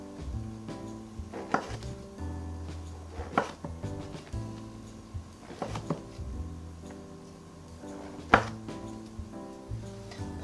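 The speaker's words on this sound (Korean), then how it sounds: "버섯을 약간 도톰하게 잘라주겠어요" A knife slicing king oyster mushrooms into thick pieces on a cutting board: sharp, distinct chops come in small clusters at an uneven pace, close and fairly loud in an otherwise quiet kitchen.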